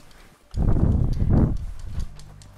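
Horses in the video game Red Dead Redemption 2, with a burst of hooves thudding close by for about a second and a half over quiet game ambience, fading at the end.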